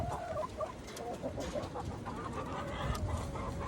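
A pet chicken clucks steadily up close, with soft fowl chatter running continuously through the moment and no talking.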